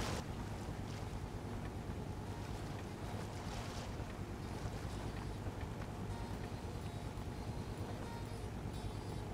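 A boat engine runs in the survival video game Rust, a steady dense drone with wind and water wash layered over it, holding constant and loud throughout.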